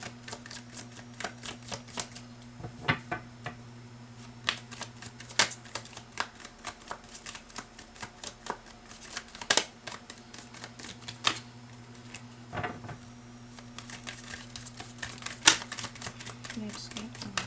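Tarot cards being shuffled and drawn at close range, with quick riffling bursts and sharp card snaps at irregular moments, soft and up close over a faint steady hum.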